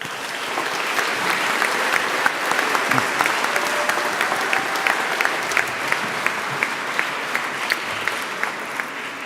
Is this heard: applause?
yes